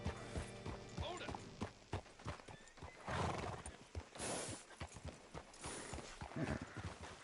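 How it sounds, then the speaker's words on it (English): A horse in Red Dead Redemption 2 lets out a loud whinny over the clip-clop of its hooves walking, with uneven bursts of movement close by and game characters talking over it. "Hitch your horse up here."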